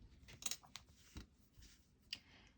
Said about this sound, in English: Grab your scissors and snip it off.